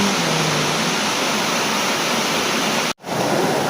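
Steady heavy rain pouring down, a dense continuous hiss that stays loud throughout and cuts out for a moment near the end.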